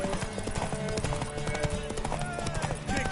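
Horse hooves clip-clopping in a fantasy role-playing video game, a steady rhythmic beat over game music, with voices and occasional neighing mixed in.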